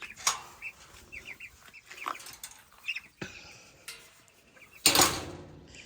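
Chickens cluck in short, scattered bursts close by, with a sudden flurry of wing flapping near the end.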